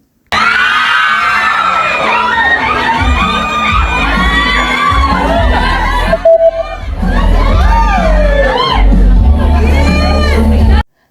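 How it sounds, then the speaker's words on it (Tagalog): Crowd of fans at a celebrity fan event screaming, whooping and cheering loudly and continuously, with a brief dip midway before the shrieks surge again; high-pitched excited yells dominate throughout. "Super kinilig ang lahat sa ginawa ni Paolo lalong hiyawan ang mga fans"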